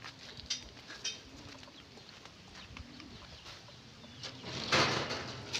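A young racing pigeon returning to its loft, with soft coos and faint rustling close by in a quiet outdoor setting, and a brief louder scrape near the end.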